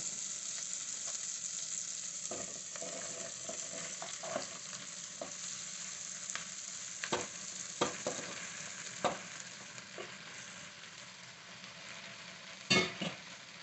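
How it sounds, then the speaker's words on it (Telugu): Ridge gourd pieces fry with onions in a pan, a faint even sizzle running throughout, punctuated by occasional clinks and scrapes of a stirring spoon that grow sharper toward the end, with no talk. "అందుకని నేను బీరకాయ ముక్కలు వేసేస్తున్నాను."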